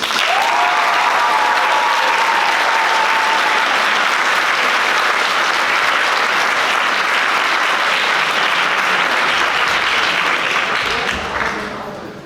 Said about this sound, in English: Please give a round of applause for the delegate of the United Kingdom.